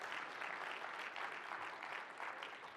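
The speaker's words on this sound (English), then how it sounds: "Give him a round of applause." An audience applauds, a dense wash of clapping from many hands, steady and somewhat distant, with faint swells in intensity.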